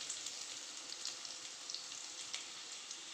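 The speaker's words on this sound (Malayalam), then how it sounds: "അതിലേക്ക് നമുക്ക് ഉള്ളി ഇട്ട് കൊടുക്കാം" Onions frying in coconut oil in a pan for an egg curry give a steady, soft sizzle with faint crackles throughout, close by and without any talk.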